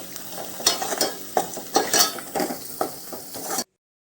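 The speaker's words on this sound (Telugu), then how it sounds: "ఉల్లిపాయ ముక్కలు బాగా వేగాక అందులో ఒక టేబుల్ స్పూన్ పసుపు వేయాలి తగినంత ఉప్పు వేసుకోవాలి" Onion pieces frying with turmeric and salt, a close sizzle under repeated spoon stirring and scraping in the pan, ending abruptly in silence.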